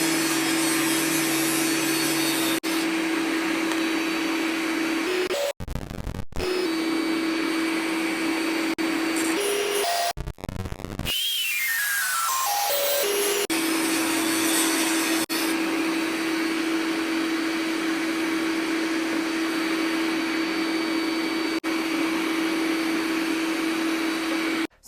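A Modsaw cuts through wooden arrows with a shop vacuum droning steadily underneath; the vacuum's hum briefly breaks off twice, and a rising whine marks the saw spinning up before the steady noise resumes.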